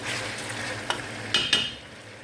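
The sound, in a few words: chicken and vegetables frying and stirred in a pan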